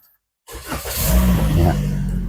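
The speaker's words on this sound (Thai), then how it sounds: "เดี๋ยวสตาร์ทฟังเสียงเครื่อง" A 2021 Toyota Corolla Altis 1.6G engine cranks and catches after a moment of silence, then settles into a loud, close, steady idle with a slight rev.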